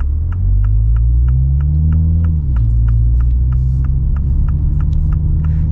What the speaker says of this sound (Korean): JCW의 터널 배기 소리 안 들어볼 순 없잖아요